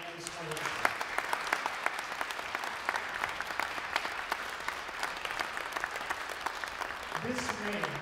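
Orchestra concert audience gives a sustained round of applause for a conductor and colleagues, dense clapping with sharp individual claps, and a voice briefly speaking near the end.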